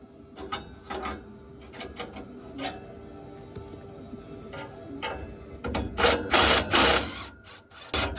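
A ratchet wrench clicks in uneven bursts while loosening an old exhaust clamp under a 1980 Chevy K30 truck, with metallic scrapes and a louder flurry of rapid clicks near the end.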